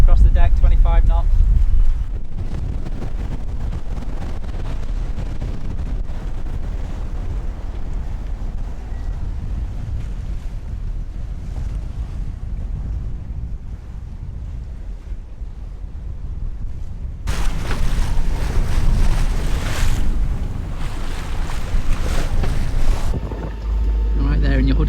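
A sailing boat pitches through rough, choppy sea off the UK in 20 to 25 knot winds, a constant roar of wind buffeting the microphone over rushing water and slapping waves, growing louder near the end, with people talking.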